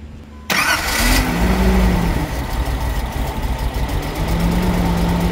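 A 1978 Datsun 280Z engine with its fuel filter bypassed cranks and fires up close by, catching abruptly and settling into a loud, steady, rough idle with wood chippers running in the background.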